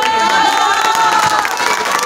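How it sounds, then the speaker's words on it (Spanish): Loud crowd cheering and shouting, with high excited voices and some clapping, erupts for young performers at a sociocultural evening event in San Mateo Yoloxochitlán. "Demos fuertes aplausos a estos jóvenes que darán su última presentación en esta"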